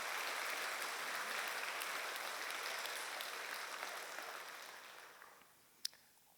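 A church congregation at a Korean Sunday worship service claps in thanks to God, a steady wash of applause that gradually thins and fades out, ending with a single sharp clap.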